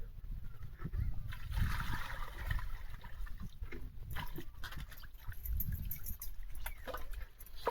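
Water sloshes and splashes close by in irregular bursts as chicken is rinsed and washed by hand, with faint background noise.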